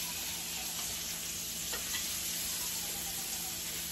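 Chicken sears in a hot pan with a faint, continuous hissing sizzle close by, and a couple of light clicks from utensils.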